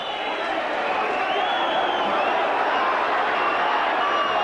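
A big crowd of about 17,000 at Tynecastle fills the air during a Hearts versus Slavia Prague football match, a steady, dense roar of voices with no breaks, loud and continuous throughout.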